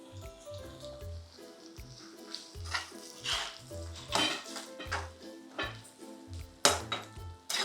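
Finely chopped small shallots frying in a pan for mutton dalcha, soft sizzling under repeated stirring and scraping of a utensil against the pan, close and quiet.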